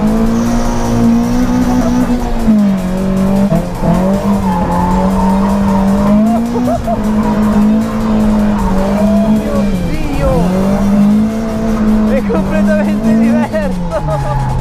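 A Toyota AE86 drifting with a pendulum technique, flicking side to side even on straights, its engine droning loudly while the tires squeal in long wavering stretches, with no break in the noise.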